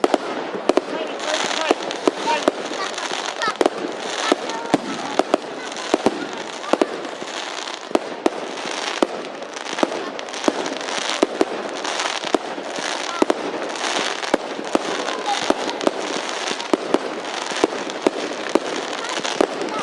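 Fireworks go off at a bonfire night event, a dense, continuous barrage of crackling bursts and sharp pops with frequent loud cracks throughout.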